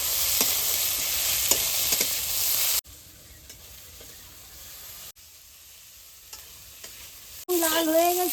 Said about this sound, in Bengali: এখন আমি পেঁয়াজটা একটু ভেজে নেব, এর ভিতরে আমি রসুনটাও দিয়ে দিচ্ছি